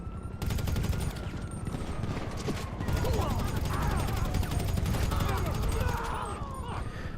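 Rapid gunfire crackles through a GTA V street scene in continuous bursts, dense and mid-distance, layered over traffic and engine noise with other sounds weaving through.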